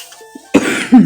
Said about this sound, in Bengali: আমারও ভীষণ কাশি হয়ে গেছে